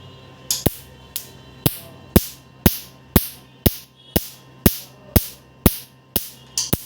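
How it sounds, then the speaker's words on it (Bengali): A laser machine removing facial moles fires about a dozen sharp, evenly spaced clicks, roughly two per second, close up over a faint steady hum. "খুব সহজে এগুলো রিমুভ করা হয় লেজার মেশিন দ্বারা"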